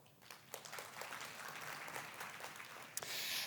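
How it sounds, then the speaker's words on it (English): Brief, faint applause from a conference audience for panelists at a renewable energy panel discussion, a soft patter of clapping lasting a few seconds before a louder burst near the end. "Round of applause."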